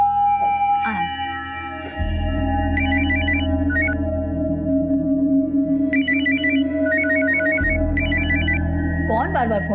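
A telephone at home rings repeatedly, with short bursts of electronic ringtone trilling on and off over a steady low background hum.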